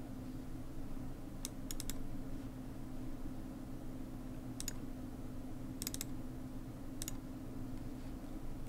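Computer mouse clicking at a PC during controller setup, several short clicks in quick pairs and clusters, faint and close over a low steady hum, with no talk.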